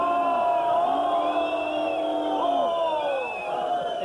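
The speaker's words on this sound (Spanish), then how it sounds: "Una gran pita para Juanito." A crowd boos and jeers with loud, drawn-out whoops and bellowing voices layered together, sustained for several seconds.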